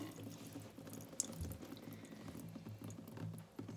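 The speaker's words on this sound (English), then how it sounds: "There, it's really dripping now." Water drips out of the bottom of a plant pot indoors, a faint, quiet patter of small drops trickling and splashing against a soft background hiss.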